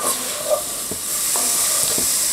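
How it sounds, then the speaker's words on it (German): Minced meat browns in an oil-coated Dutch oven over raised heat, giving a loud, steady sizzle and hiss with a few soft stirring scrapes close by. "kommt das Hackfleisch dazu und die Temperatur werde ich ein bisschen nach oben setzen"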